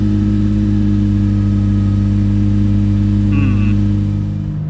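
BMW E46 car engine idling after long storage, with flat-spotted tires and rusty brakes, a loud steady low hum with strong tonal drone throughout, a brief high whine near the end as it fades slightly.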